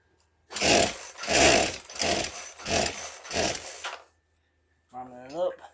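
A Poulan chainsaw is pull-started with five rasping, rhythmic yanks of the recoil cord, loud and close, the engine not catching; a voice speaks briefly after a pause.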